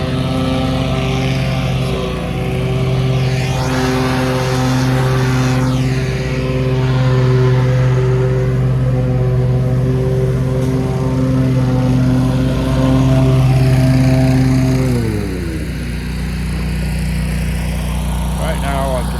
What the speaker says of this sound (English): I'm walking by this lawnmower fella, so it's gonna be loud and obnoxious and annoying